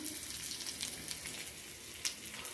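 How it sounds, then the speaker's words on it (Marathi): Chopped onion roasts in a pan with a soft, even sizzle that runs throughout, broken by one small clink. "तर हे आपला कांदा चांगला भाजत आलेला आहे."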